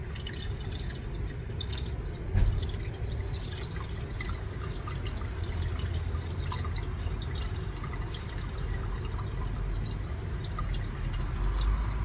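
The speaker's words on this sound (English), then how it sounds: "Okay, we add the water." Water poured into a car radiator after coolant, a steady low rushing gurgle lasting throughout, fairly quiet and even, with no voices.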